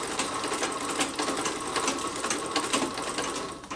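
Treadle sewing machine runs alone at a quiet, close level, giving a fast, even mechanical chatter with a soft whirring underneath, steady for several seconds.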